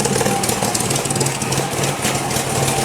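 A 1982 Ford Capri MKIII engine runs steadily on choke, a close, loud and continuous idle with a rough, uneven throb and no voices over it.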